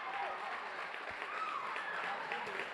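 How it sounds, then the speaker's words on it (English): Home crowd cheering and applauding in a gym during a girls high school volleyball match against Mount Lebanon, a steady dense roar sustained throughout at moderate loudness with no pauses. "their crowd has come to life"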